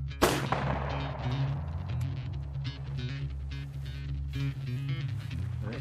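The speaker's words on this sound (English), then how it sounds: "A lot of shooting goes on in a small place." A shotgun fires once during an outdoor quail hunt, a loud close blast that rings and decays over a steady engine-like drone and background noise.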